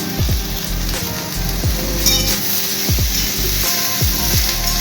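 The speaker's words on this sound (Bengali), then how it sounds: "আস্তে আস্তে এটা করলা আলু ভাজা হয়ে যাবে, খুব অল্প তেলে ভাজবি" Bitter gourd and potato fry in a small amount of oil with salt and turmeric, giving a loud, continuous close sizzle with regular soft clicks and spatters, alone without talk.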